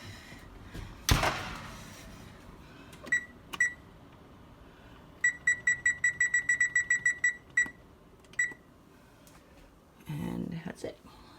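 Repeated electronic beeps from an oven timer, a couple of short beeps followed by a fast run of about ten evenly spaced beeps, then one or two more, with a clatter and quiet kitchen sounds around them.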